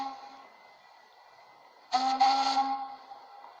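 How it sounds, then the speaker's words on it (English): Steam whistle of the ocean liner Empress of Ireland: a faint steady whistle tone, then a louder blast of about half a second with a second blast right after, fading back to a low sustained tone. "blasts of her whistle."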